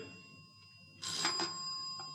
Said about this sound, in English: Answer that phone for me, will you, Higgy?